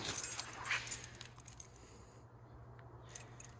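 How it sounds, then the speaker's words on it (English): Keys on a ring jingle and clink close by at the start, fading to a faint rattle, with a steady low hum beneath, found with a 1962 Mercury being brought back to life after decades. "Oh, I even got keys."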